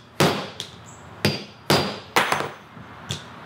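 A hammer strikes a metal rivet setter to flatten a rivet on leather strap work, six sharp, close blows spaced unevenly, some pairs quick and others followed by short pauses.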